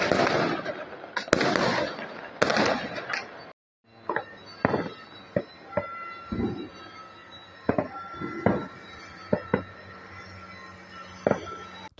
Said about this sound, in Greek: με αρκετά πυροτεχνήματα να φωτίζουν και πάλι τον σκοτεινό ουρανό